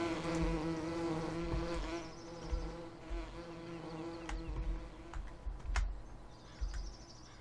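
Bees hum steadily in the farming game Farming Simulator 17, a constant drone with sustained buzzing tones, accompanied by faint clicks and short chirps.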